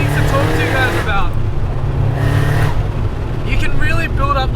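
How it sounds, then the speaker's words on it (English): A Nissan Silvia S15 Spec R with an SR20DET engine accelerates hard, its engine note climbing in rising pitch sweeps through repeated gear pulls under a continuous loud drone, with someone speaking over it. "You can really build up a lot of speed in this car very quickly with the SR20 DET"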